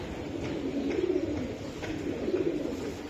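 A female racing Giribaz pigeon gives two low, rolling coos about a second apart, close and fairly quiet, with no talking.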